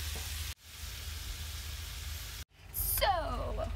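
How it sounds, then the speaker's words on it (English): Steady hissing sizzle of sausages frying in a hot pan in a campervan, broken by two brief gaps, with a louder crackling burst near the end. "once your sausages are sizzling away, making the noise"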